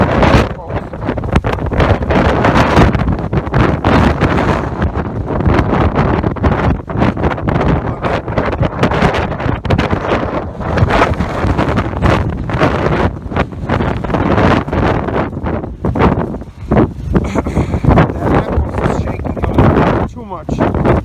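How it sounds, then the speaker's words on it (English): Strong, gusting wind buffets the microphone on a New York City street, a loud continuous roar with rushing surges throughout. "it's extremely windy"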